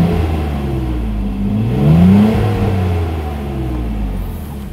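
A 1990 Nissan Skyline GT-R with a warm RB26 engine idles close by, a steady low rumble with a brief rise and fall in revs midway, then settles back to an even hum with no talk.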